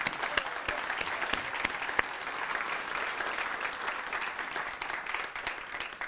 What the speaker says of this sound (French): Moi, je demande qu'on les applaudisse